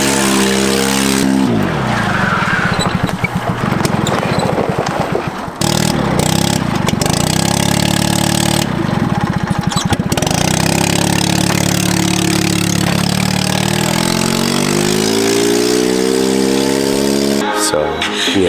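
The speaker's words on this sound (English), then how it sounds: "I'm gonna take the golf cart" A loud golf cart engine drives and revs, its pitch sliding up and down with a tire-squeal edge and brief dropouts, staying close and prominent throughout.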